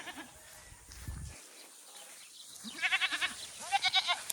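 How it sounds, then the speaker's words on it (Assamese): Goats bleat several times in quick, wavering calls, fairly close, after a moment of low rustling and quiet background. "গোটেই ছাগলী আল দি থৈছে"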